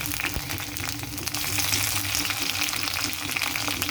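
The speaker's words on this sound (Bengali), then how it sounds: "টমেটো দিয়ে দেবো।" Tomato added to reddened fried onions in hot oil sizzles loudly and continuously at close range, with light stirring through it and no voices.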